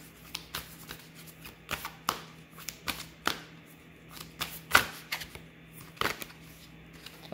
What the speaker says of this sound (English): Trying to get a card from this numerology deck